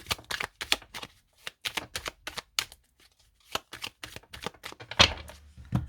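Deck of oracle cards being shuffled and cut by hand: quick crisp riffling bursts in an irregular rhythm, close and clear, with no talking.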